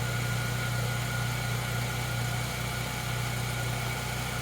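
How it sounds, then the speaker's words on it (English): A Jaguar X-Type 3.0 engine, which has a misfire, idles while warming up with a low, even hum and a faint mechanical vibration, no talking. "And now we just need to let the engine warm up a little bit."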